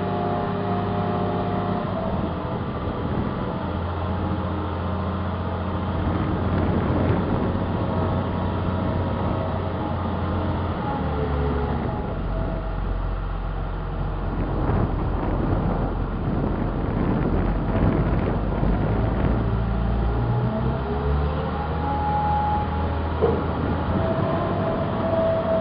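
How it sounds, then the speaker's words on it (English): Two big hydraulic rams under a tilt trailer wagon lift the front, giving a loud, steady low mechanical drone and hum that shifts pitch partway through, with wind buffeting the microphone outdoors. "Two big hydraulic rams under the wagon that are operating the wheels. Just starting to lift the front."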